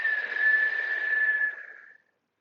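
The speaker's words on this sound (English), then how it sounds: "I made a whistle sound." A single sustained whistling exhale through pursed lips during a hatha yoga breathing exercise: a steady, breathy tone held for about a second and a half, then fading out into silence.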